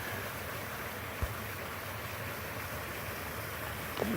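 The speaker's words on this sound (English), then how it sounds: "Enjoy this creek. You see a little waterfall up there?" Creek with a small waterfall, a steady broad rushing and splashing of flowing water, continuous and fairly faint, with a couple of brief thumps.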